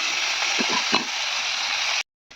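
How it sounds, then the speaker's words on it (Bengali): Chopped spring onion greens sizzle and fry steadily in a pan for a Bengali village saag dish, with a few soft stirring scrapes before the sound cuts off. "তো এই যে পেঁয়াজ কলিটা ভাজছি।"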